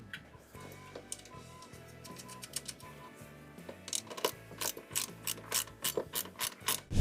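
Washers and screws being fastened on a Ford F-150, heard as a quick run of close ratcheting clicks and metallic ticks that speeds up and grows louder toward the end, with no talk.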